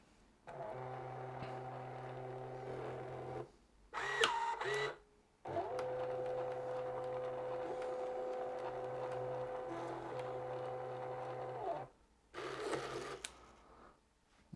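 An Epson LW-900P label printer whirs steadily as it prints a label, in several long motor runs broken by brief pauses and a few sharper mechanical clicks, with no voices.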